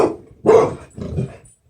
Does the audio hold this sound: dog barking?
yes